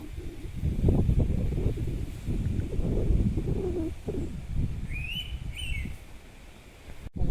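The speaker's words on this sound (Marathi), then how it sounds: "बघा कसा पाखरू बोंबाटता" Two bright bird calls ring out close together near the end, over a low, blustery wind rumble, in a rice field during transplanting in Konkan.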